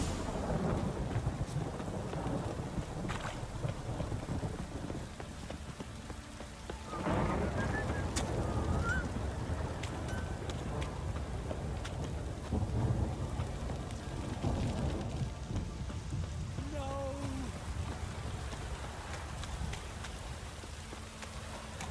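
Heavy rain pours steadily in The Witcher 3, with low rolling thunder swelling several times through a dense, continuous downpour.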